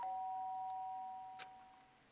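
A doorbell chimes in the video game Danganronpa Trigger Happy Havoc, a clear sustained electronic tone fading over about a second, followed by a brief soft click.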